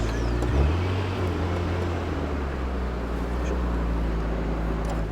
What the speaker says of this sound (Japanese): ちょっとエンジンかけますね。